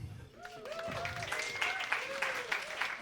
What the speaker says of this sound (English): give yourselves a round of applause for coming out and supporting live comedy